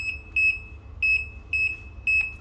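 A Fox Mini Micron X Camo carp-fishing bite alarm gives short, clear electronic beeps in quick pairs, repeating steadily over a low background hum.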